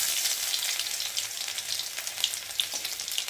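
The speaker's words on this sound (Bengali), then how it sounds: "রসুনটা একটু ভালো করে ভেজে নেব যাতে রসুনের গন্ধটা চলে যায়" Garlic paste frying in oil with dried red chilli and bay leaf gives a steady, close hiss of sizzling with a few sharper crackles and pops, and no voices.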